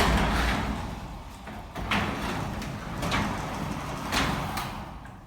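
A Hormann sectional garage door is lifted by hand after the opener is released, giving several rolling rumbles and clunks as the panels run up the tracks, close and fairly loud, with no talking.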